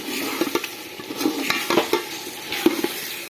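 Potatoes and carrots are stir-fried in a pot for vegetable pulao: continuous frying sizzle under repeated close spoon scrapes and clinks against the metal.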